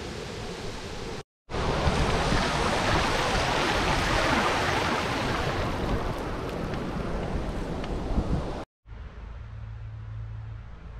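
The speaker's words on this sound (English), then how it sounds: "I'm just waiting for these cars to go to get through this flooded creek." Rushing water of a flooded creek in the Northern Rivers area of NSW, a loud, steady broadband roar that holds for several seconds between brief cuts, with a lower rumble after the last break.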